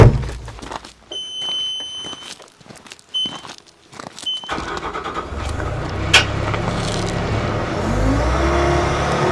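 Engine of a 2021 Bobcat S76 R Series rubber-tire skid steer loader cranks and catches midway, settling into a loud, steady diesel idle, preceded by a few electronic beeps and clattering noises, with no speech.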